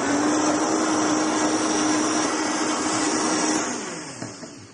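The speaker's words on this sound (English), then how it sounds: "So let's blend it up." A blender whirs hard on a drink in one continuous, steady roar that eases off toward the end as the motor winds down.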